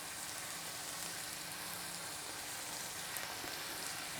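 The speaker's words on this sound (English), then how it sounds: "we're going to go in with our beef to get a good sear on it" Beef chunks searing in a hot pot for stew, a soft, steady sizzle spread evenly throughout, quiet and close with no talking.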